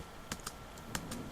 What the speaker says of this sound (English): if you're hearing the clicking of the keyboard and mouse and so on